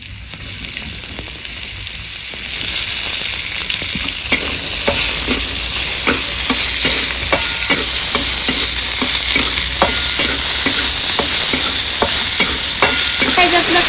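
Pavta beans roast in a little oil in a pan, a loud continuous sizzle that builds after a couple of seconds, with quick regular scraping and stirring strokes throughout.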